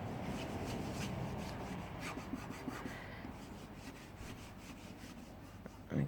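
Gel stain rubbed by hand across a wooden panel: a steady, close, soft scrubbing and swishing that runs continuously without pause.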